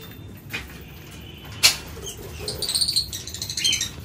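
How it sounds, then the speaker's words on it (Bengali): A pigeon lands amid a pet lovebird colony with a single sharp burst of wing flaps, followed by scattered high chirps and tweets from small birds nearby. No talking. "দেখো পায়রাটা চলে এসছে দেখে সঙ্গে সঙ্গে"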